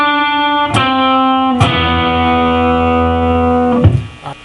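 A distorted electric guitar plays a lick from a rock song, with a few sharp attacks that ring into long, sustained power-chord tones. The tone is loud and gritty and played solo.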